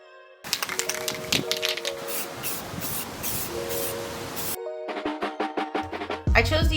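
An aerosol can of primer hisses in two long close bursts onto the interior of a wooden free-library build, separated by a pause, followed by a quick series of rattling taps and clicks.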